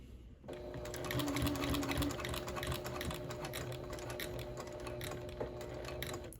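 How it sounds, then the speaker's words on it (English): A domestic sewing machine stitching a scrappy quilted mug rug, running as a steady, close mechanical whir with a fast rapid ticking of the needle throughout, starting abruptly after a brief pause. "with my needle down, lift my presser foot, angle it towards the corner, and then sew off the edge"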